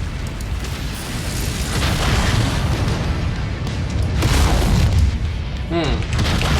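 A storage complex blows up in the MechWarrior 5 video game, a sustained booming explosion with rumbling blasts and crackle, swelling louder toward the end, with a voice briefly present.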